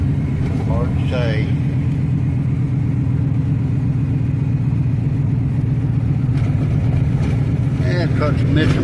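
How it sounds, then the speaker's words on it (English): A truck engine with a bad misfire runs steadily and loudly while the vehicle is driven slowly around, giving a dense, uneven low rumble throughout. A voice talks briefly over it near the start. "Truck's missing pretty bad."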